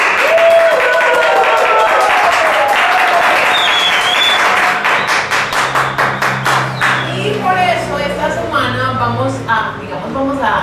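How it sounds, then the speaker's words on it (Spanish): Audience at a talks-and-stories show bursts into loud clapping mixed with voices and cheers, the applause building into a dense patter of hand claps while people keep talking over it. "Aplausos otra vez."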